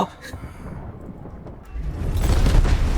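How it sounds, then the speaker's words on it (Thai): A vehicle explodes in the shooter game Delta Force, a deep rumbling blast that swells toward the end amid noisy gunfire-laden game ambience, heard without voices. "เออรถระเบิดไปละ"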